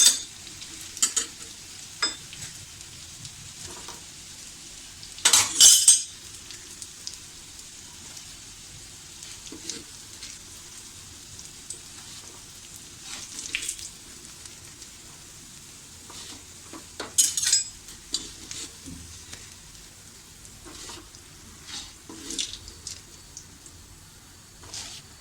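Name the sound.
shallow frying poha potato cutlets in pan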